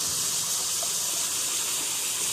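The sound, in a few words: waterfall rushing water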